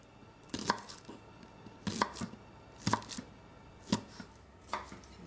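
A knife chops a small bunch of spring onions on a board, giving about six separate soft, crisp taps at an irregular pace. The taps are close and fairly quiet, with no talk.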